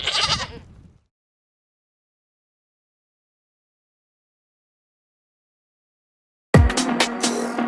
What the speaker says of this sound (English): So we'll end ours with an angry goat.